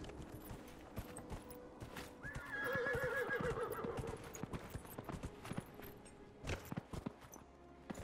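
A horse in Dragon Age: Inquisition gives one loud, drawn-out whinny in the middle, with clip-clopping hooves and game ambience before and after it.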